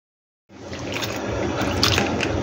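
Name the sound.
water trickling slowly from a tap, running out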